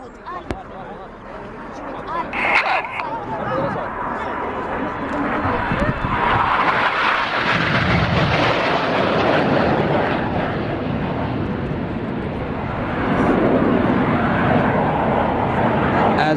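RAF Red Arrows jets perform an airshow display in Malta, a steady broad roar of jet engines that swells and holds as the aircraft roll out toward the crowd, with a commentator talking over it.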